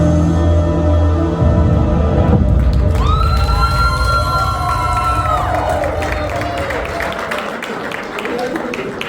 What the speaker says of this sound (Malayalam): ഈ കയ്യടിയാണ് നമ്മുടെ എല്ലാവരുടെയും സപ്പോർട്ട്